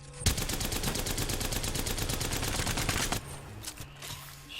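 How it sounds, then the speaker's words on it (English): Rapid automatic gunfire in the Apex Legends video game while controlling recoil on practice targets, a loud, fast, steady stream of shots lasting about three seconds, then a few scattered lighter sounds. "Just working on controlling that recoil."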